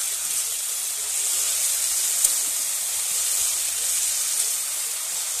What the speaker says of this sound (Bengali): আর এর মধ্যে আমি সবজিগুলোকে ভেজে নেব।